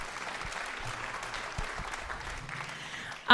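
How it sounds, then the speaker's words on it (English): Applause from the audience at a middle school end-of-year band concert, a steady, moderately distant wash of clapping that carries on throughout and swells sharply at the very end. "so we'll clap for them as well"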